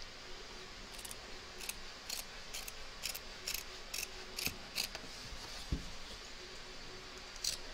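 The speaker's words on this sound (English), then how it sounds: "turn your hoop over and trim around the edge, taking care, of course, not to cut your stitches" Scissors trim fabric around the edge of a large embroidered applique on the back of a machine hoop, a quiet series of small crisp snips in an irregular rhythm, close and alone.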